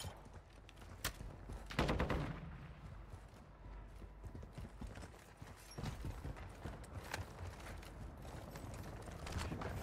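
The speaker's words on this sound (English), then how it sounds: "I'm shooting at something down here." Gunfire from the Call of Duty DMZ video game, with sharp shots near the two-second mark and again around six seconds, set against a busy, dense background of game noise.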